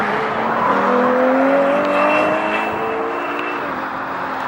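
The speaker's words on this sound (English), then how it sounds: "that is the sound of a naturally aspirated Ferrari V12" A naturally aspirated Ferrari V12 revs loud and close, its engine note climbing through rising harmonics, easing back, then pulling up again in a sustained howl with no one talking.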